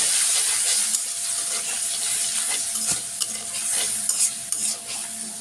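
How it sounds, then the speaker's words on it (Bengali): Spices with coriander powder and salt sautéing in a hot pan, a steady close sizzle and fry with repeated scraping stir strokes throughout, no talking. "লবণ মশলাটা একটু কষিয়ে"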